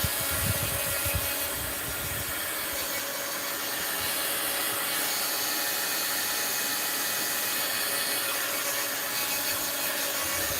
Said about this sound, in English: Let's get it a little dry in here so I can work with it.